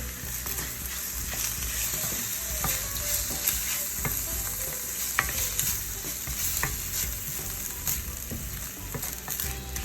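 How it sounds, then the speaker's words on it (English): A seafood stuffing mixture seasoned with Old Bay sizzles steadily in a pan while a utensil stirs it, with close scraping and clinking throughout and no speech. "And you stir."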